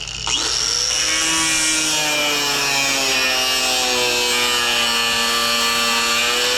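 A power tool without a guard cuts through the rust-eaten frame of a Fox Body Ford Mustang, giving a loud, continuous, close metallic whine whose pitch slowly sinks under load; one brief spoken word is heard.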